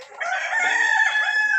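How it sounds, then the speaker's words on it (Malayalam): A Gramalakshmi rooster of a laying-hen breed crows on a farm, one loud, drawn-out cock-a-doodle-doo that holds steady close by for over a second, with no one talking. "ഇത് മുട്ടക്കോഴി വർഗത്തിലുള്ള ഗ്രാമലക്ഷ്മി പൂവൻ കോഴികൾ"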